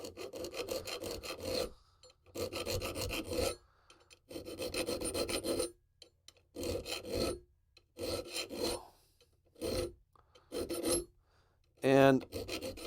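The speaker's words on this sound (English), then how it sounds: "I can get in with my file and just round those a little bit" A hand file rasps across the edges of a metal SKS dust cover clamped in place, rounding them off in about eight separate bursts of scraping strokes with short pauses between, close and fairly loud.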